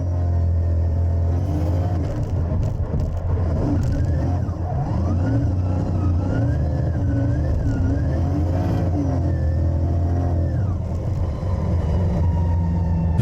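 A 1100whp C6 Corvette laps a track, its engine roaring loudly and continuously from inside the car, with rising and falling revs through the corners.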